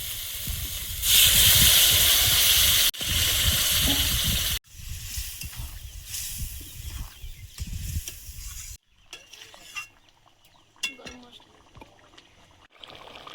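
Soybean curry goes into hot oil spiced with coriander powder. A loud burst of sizzling comes first, then it settles into quieter frying with intermittent scrapes and clinks of stirring.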